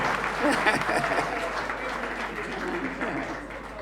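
A live concert audience claps for the band at an album release show, a steady mass of applause with a voice speaking over it now and then.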